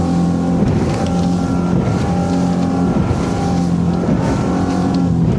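A Suzuki DF 300 outboard engine on a ZAR 79 SL inflatable boat roars steadily at full throttle, loud and close, with a droning tone that wavers slightly as the hull moves.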